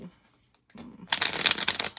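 Mystic Mondays tarot cards being shuffled by hand, a soft riffling burst that starts after a brief quiet lead-in and runs close and fairly loud to the end.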